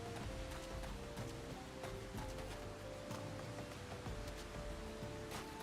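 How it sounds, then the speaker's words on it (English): Rain falling in the Final Fantasy XIV game world, a steady hiss of downpour with scattered droplet ticks and a faint tonal hum beneath, continuous and moderately loud. "It is rainy."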